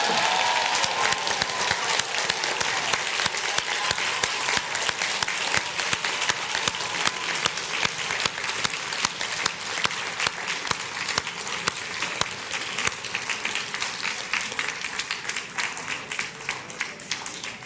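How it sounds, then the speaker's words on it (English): Applause fills a London auction room after a lot in the George Michael collection sells at Christie's. It is a long, steady, dense ovation from a large crowd that holds an even level throughout. "A round of applause to Christian as well."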